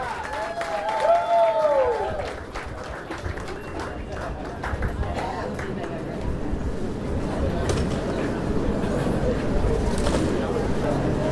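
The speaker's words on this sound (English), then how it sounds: "Big round of applause, Austin Culbertson." Crowd applause and cheering at a bass fishing tournament weigh-in, sustained clapping filling most of the stretch, with an announcer talking over it on a loudspeaker.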